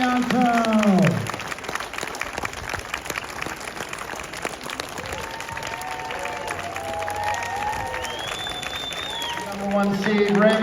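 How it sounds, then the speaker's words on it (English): Crowd applause and cheering at a men's semifinal tennis match, loud at first and then fading to a scattered background while an announcer speaks over it, with clapping swelling again at the end. "let's give a big round of applause to Govind, Nanda and Raymond Sarmiento"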